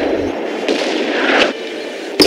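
Loud, close cannon fire from 24-pound artillery in the Empire Total War battle game, France versus Great Britain: a broad roaring blast sustained for over a second, then a sharp fresh report at the end, no talking.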